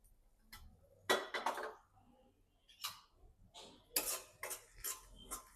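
Salt, turmeric and red chili being mixed into pav bhaji paste in a pan: quiet, intermittent clinks and scrapes of a spoon on the metal pan, coming in short irregular bursts with gaps between them.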